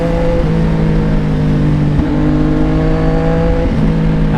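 A CFMOTO 675NK motorcycle with a 675cc, 88-horsepower engine revs hard and accelerates through the gears, a loud, close, continuous engine note rising in pitch with brief dips at the shifts, no voices.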